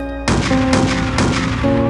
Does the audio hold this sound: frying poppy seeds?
no